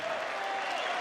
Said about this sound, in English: Every point the Peruvian gets, the crowd are roaring.